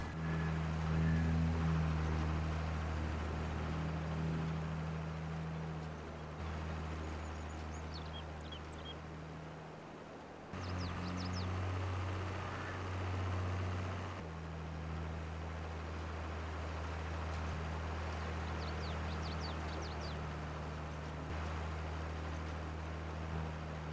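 Steady low engine drone of a tractor left idling in the Farming Simulator game, a continuous mid-loud hum with harmonic tones running throughout, joined by faint chirps and light ambient rustle.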